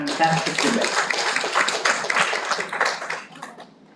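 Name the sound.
audience applause for debate teams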